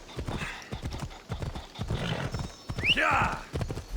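A horse gallops in the video game Assassin's Creed Odyssey, rapid rhythmic hoofbeats drumming close throughout, with a shrill whinny near the end and a voice speaking over the hooves.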